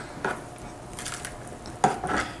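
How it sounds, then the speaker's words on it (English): Gold concentrates are dumped into a metal pan, giving two short metallic clatters with a gritty scrape between them, close and moderately quiet. "I'm just going to dump everything in the pan."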